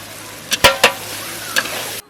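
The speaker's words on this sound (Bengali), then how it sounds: "আমরা ধনেপাতাটা মশলার সঙ্গে সুন্দর করে কষিয়ে নেবো।" Spices and coriander leaves being fried in a pan, sizzling steadily under a few quick, loud scrapes and taps of a spatula stirring them.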